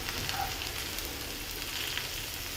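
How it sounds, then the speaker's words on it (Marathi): Asafoetida and chopped mint drop into a hot oil tempering for kadhi, giving a steady, moderate sizzle and crackle that runs throughout without any talking. "इथे मी पुदिना जो घेतला आहे चिरून तो पण यातच टाकून घ्यायचा आहे"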